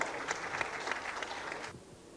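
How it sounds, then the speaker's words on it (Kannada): Audience applause at a film pre-release event welcoming the director, a steady, dense patter of many hands that carries on for nearly two seconds before dropping away abruptly. "ಬಗೀರವನ ಒಂದು ಸೂಪರ್ ಹಿಟ್ ಕೊಟ್ಟಂಥ ನಮ್ಮ ಡಾಕ್ಟರ್ ಸೂರಿ ಸರ್ಗೆ ಒಂದು ದೊಡ್ಡ ಚಪ್ಪಾಳೆಗಳ ಮೂಲಕ ಸ್ವಾಗತ"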